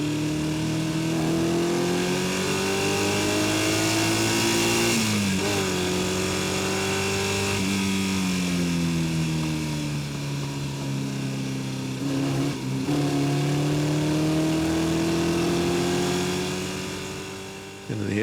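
A race car engine drones loud and close while lapping the damp Ruapuna circuit. Its pitch climbs steadily through each gear, then drops sharply at the shifts, with a narration voice running over it.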